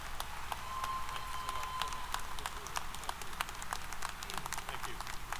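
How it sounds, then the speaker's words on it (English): A crowd at a Texas A&M University-Corpus Christi commencement ceremony applauds Dr. David Scott, sustained clapping under a faint steady hum and a brief tone, with some murmuring in the room. "Let's give him a big round of applause."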